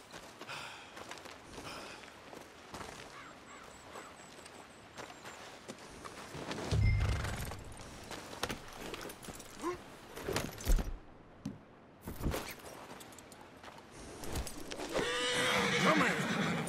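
A horse in the video game Red Dead Redemption 2 neighs and snorts amid hoof clops and tack jingling, with bursts of louder movement and a voice speaking over parts of it.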